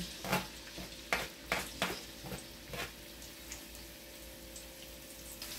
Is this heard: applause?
no